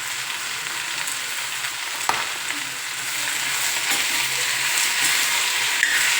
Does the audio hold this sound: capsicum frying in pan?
yes